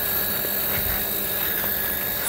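A small 7-color toy RC helicopter whirs steadily nearby, its motor giving a constant high buzzing drone without pause.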